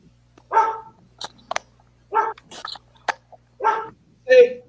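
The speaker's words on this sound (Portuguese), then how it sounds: "ouvindo um cachorro." A dog barks repeatedly at close range, short sharp woofs coming in a loose rhythm with brief pauses between them.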